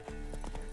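The horse Roach galloping in The Witcher 3, a rapid rhythmic clip-clop of hooves set in front of constant game music and ambience, with no talking.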